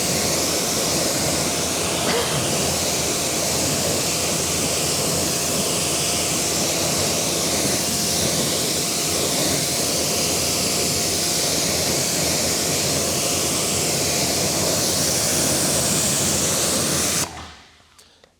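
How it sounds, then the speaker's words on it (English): A water spray rinses off cleaned car wheels, including spokes, faces, barrels, calipers and tires, giving a loud, steady hissing rush that runs nearly unbroken for about seventeen seconds, then cuts off abruptly. "Let's get these bad boys rinsed off."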